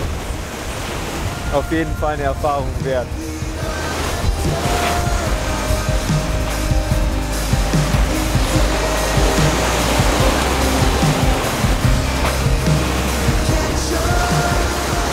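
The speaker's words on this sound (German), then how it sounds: "Das ist echt stürmische See gerade" Stormy Atlantic sea during a sailing crossing: waves surge and wind roars in a steady, heavy wash that builds slightly over the whole stretch, with a person speaking over it.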